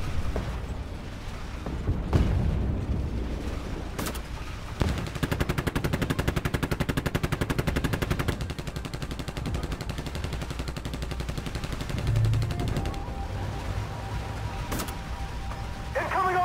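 Dense, continuous gunfire and explosive bursts from the Armored Warfare tank game, a loud sustained barrage of rapid shots with heavier booms mixed in, running throughout with little pause.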